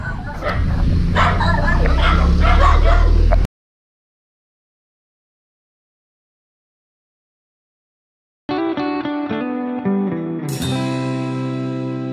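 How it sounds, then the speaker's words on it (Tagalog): Several dogs bark and yip in a noisy burst with voices mixed in, then silence, followed by a cleaner stretch of tonal sound. "Daming aso."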